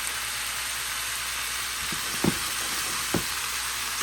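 Vegetables frying in a skillet on high heat make a steady, bright sizzle, broken by a couple of brief knocks or clicks near the end, with no one speaking.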